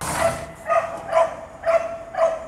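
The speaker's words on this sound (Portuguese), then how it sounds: "Esses cachorros tinham que latir agora." Dogs bark in a steady rhythm, five sharp evenly spaced barks at moderate distance, with no one talking.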